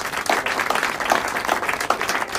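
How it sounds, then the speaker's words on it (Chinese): Applause from a group gathered at an office dinner celebration for Xia Xiaoning, a brief burst of hand clapping at moderate loudness, with a few claps standing out, lasting a couple of seconds. "来，大家给他鼓掌。"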